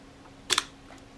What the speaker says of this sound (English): and as the shutter is released